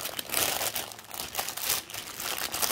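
A shipping package holding a button-down shirt is torn open by hand, giving close, loud bursts of crinkling and crunching plastic and paper in quick irregular rustles, with no speech.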